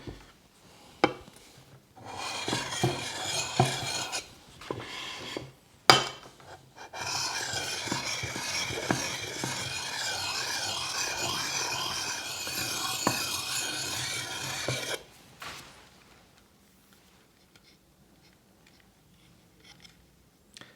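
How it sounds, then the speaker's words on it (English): Medium diamond stone rubbed along the edge of a Wetterlings Bushman axe, a close, steady rasping scrape in several long strokes with short pauses between them, ending in near quiet. "So the next thing I would do is typically use my diamond stone. This is a medium, and I would touch up the edges."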